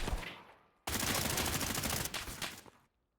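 Sustained rapid automatic fire from an Ash-12 rifle in a competitive tactical shooter match on the Iceberg map, a loud dense burst lasting about two seconds after a fading earlier shot, then cutting to silence.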